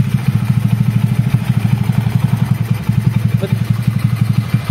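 A Honda Wave 100 motorcycle engine runs loud and close, its single-cylinder beat thumping in a fast, even rhythm with a faint mechanical clatter.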